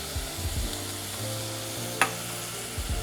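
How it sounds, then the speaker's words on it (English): Crushed tomatoes hit a hot pan of softened garlic and onions, giving a steady close sizzle with soft stirring scrapes throughout and one sharp clink of a utensil midway, with no one speaking. "I'm gonna add my crushed tomatoes."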